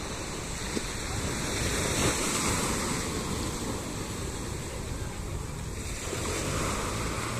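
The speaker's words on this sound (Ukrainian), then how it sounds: "хтось хоче послухати шум океану" Ocean surf on a November holiday shore: a continuous, fairly loud wash of breaking waves mixed with wind buffeting, steady from start to finish with no voices.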